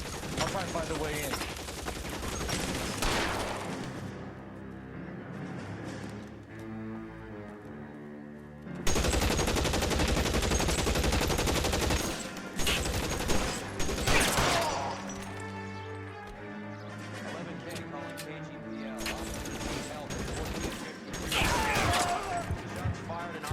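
Gunfire in L.A. Noire: bursts of rapid shots and single loud cracks come in clusters over a long stretch, with quieter pauses, impacts and game noise between them.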